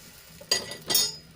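Two quick scraping clinks sound half a second apart as an aloo paratha is turned over on a hot griddle, with a light sizzle beneath and no speech.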